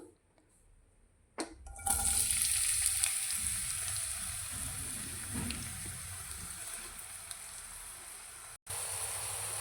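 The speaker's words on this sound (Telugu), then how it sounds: "ఇప్పుడు ఆయిల్ హీట్ అయిందండి ఆనియన్స్ అయితే వేసుకుందాం" Onions dropped into hot oil for a taro root gravy curry, a quiet start then a sudden loud burst of sizzling that settles into a steady close roar of frying, briefly cut out near the end.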